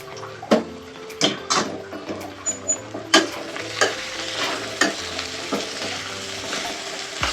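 Chopped ridge gourd stir-fried in a pan, with a steady sizzle broken by repeated sharp scraping strokes of the spatula at an uneven rhythm, close and moderately loud, no talking.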